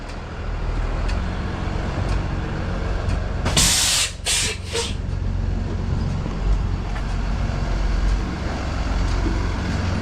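A 1989 boxy Chevy truck idles steadily with a low engine rumble, broken by a few loud bursts of hissing air partway through.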